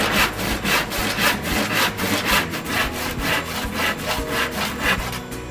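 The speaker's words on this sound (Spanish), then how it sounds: "Corte la pieza de Playdeck a 90 centímetros." A saw cuts through a Playdeck board in steady, rhythmic back-and-forth strokes, each one a loud, close rasp repeating evenly with no speech.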